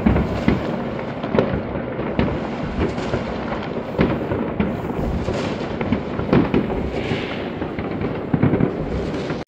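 New Year fireworks burst repeatedly in a dense, continuous barrage of booms and crackles, with sharp louder bangs scattered throughout and no talking.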